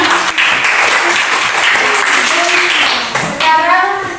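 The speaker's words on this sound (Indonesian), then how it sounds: "Oke, tepuk tangan dulu Silviana." A classroom of students applauds a classmate, loud, close, dense clapping held steady for several seconds with a few voices rising over it near the end.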